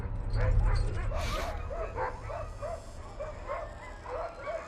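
Near a polar bear on Arctic ice, several dogs bark and yip in a quick, regular series of short yelps, close and fairly loud over a low rumble.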